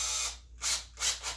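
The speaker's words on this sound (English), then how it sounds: "Now I'm going to drill my hole." A small 1/16 inch bit drills a hole for mounting a 12 volt USB volt meter panel in a Brooklyn PK13, giving two short high-pitched whirring bursts separated by brief pauses, fairly faint.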